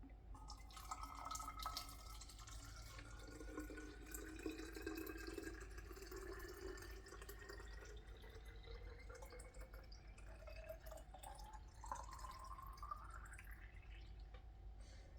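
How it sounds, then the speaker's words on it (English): A pint of water poured into a container, a faint continuous trickling stream whose pitch rises steadily as the vessel fills, ending with a brief upward gurgle. "Okay, so we're going to pour in pint number 1."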